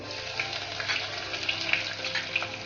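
Cumin, mustard seeds, crushed curry leaves and garlic sizzling in a couple of spoons of hot oil for Khandeshi zunka: a dense, crackling fry with scattered pops, close and steady without talk.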